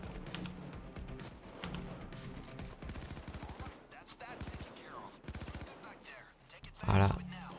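Rapid gunfire in the video game Payday 2: bursts of automatic shots and single cracks at moderate level, broken by short pauses and ending with a louder blast, while someone speaks French over the fighting.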